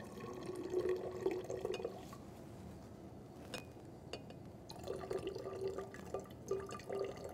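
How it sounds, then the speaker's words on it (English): Water poured into a container in a lab to bring a PBS solution up to 300 ml, giving a steady trickling, splashing pour that stops midway and then resumes, close and moderately quiet. "I'm going to add more water. This is water to bring the volume up to 300 mils."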